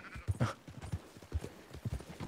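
A horse ridden in the video game Red Dead Redemption 2 clip-clops over ground in a steady rhythm of close, distinct hoofbeats, with a short snort mixed in.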